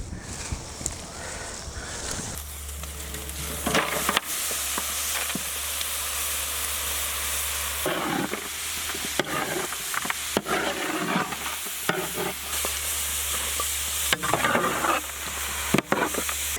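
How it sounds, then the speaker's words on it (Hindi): Mutton boiling in a pot gives a steady, close bubbling sizzle over a low hum, broken by several short scraping clatters of stirring. "पहले हम लोग मटन को अच्छी तरह बॉईल करेंगे"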